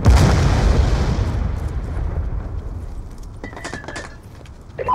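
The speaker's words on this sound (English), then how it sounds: "Friendly Hellstorm missile inbound." A Hellstorm missile strike in Call of Duty: Black Ops 2 lands with a heavy, close boom that rolls into a long fading rumble, followed by faint metallic clinks and a brief tone.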